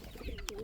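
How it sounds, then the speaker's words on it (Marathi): Pigeons in a home loft give one short, soft coo close by, a quick throaty call that rises and falls and is heard alone without talk. "तर असे काही कबूतर आहेत माझ्याकडे."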